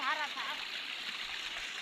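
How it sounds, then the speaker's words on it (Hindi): Cold spring water flows steadily from a mountain source in a hill village, a continuous close rushing trickle, with a voice briefly audible at the start. "तो यहाँ पे है, पानी निकल रहा है"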